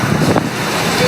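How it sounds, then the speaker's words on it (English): Strong gusting wind buffeting the microphone on a Dublin street, a loud, rough, continuous roar over the short stretch. "At some point you feel like there is no wind at all, and like right now it's very windy."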